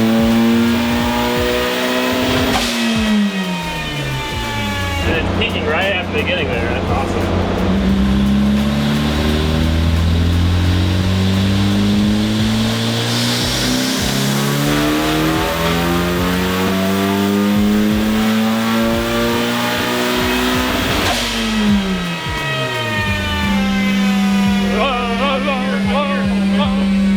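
A turbocharged high-compression 1.6L Mazda Miata revs hard on a dyno. The engine climbs through the rpm several times, falls back and rises again in long loud sweeps, and speech is partly heard over it.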